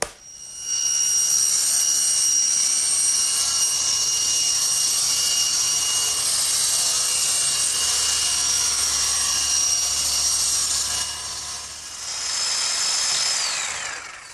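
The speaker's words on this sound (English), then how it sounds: "my electric jigsaw sure makes quick work of finishing up that slot" An electric jigsaw cuts a slot in a wooden workbench top with a steady, loud, high-pitched whine that runs almost unbroken. It dips briefly and then ramps back up before cutting off near the end.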